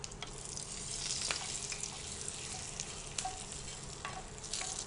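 Tempering of hot oil and spices sizzles steadily as it is poured into curry leaf chutney, a continuous close crackling hiss with a few sharper pops and no talking.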